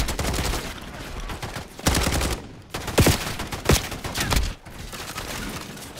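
Gunfire in Warzone on the Verdansk map: rapid bursts of automatic shots with several sharp louder cracks, dense and close throughout.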